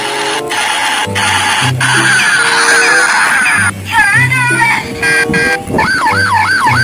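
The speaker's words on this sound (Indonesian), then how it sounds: "Ada mobil polisi." Near and loud, a police car siren sounds first as a fast electronic warble, then shifts into quicker yelping sweeps and finally a slower wail, with short low honks in between and no speech.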